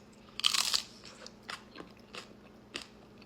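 Close, crisp crunching bites into a frozen fruit roll-up ice cream treat, one loud burst of crunching followed by several sharper single bites with pauses between, no talking.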